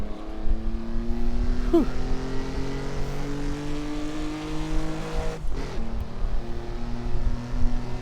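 A Jaguar car's engine revs and pulls hard on a Highlands road, a steady close drone that climbs in pitch, drops sharply at a gear change, then climbs again. A voice briefly exhales.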